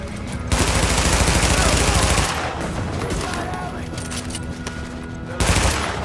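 Automatic gunfire in the video game Tom Clancy's The Division, dense bursts of rapid shots in Manhattan combat, loud and close, with a short lull between heavy volleys and voices mixed in.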